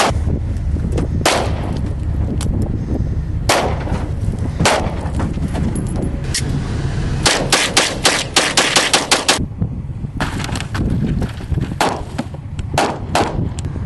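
An AK-47 fires loud rapid bursts and single shots, sharp cracks in quick rhythmic clusters with a rumbling echo between them across the whole stretch.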